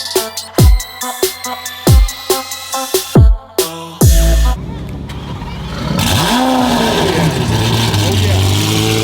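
A Lamborghini Aventador with a Liberty Walk wide-body kit barks through a series of sharp, loud revs in quick succession, then settles into a sustained roaring rev with rising pitch, close by, with voices around it.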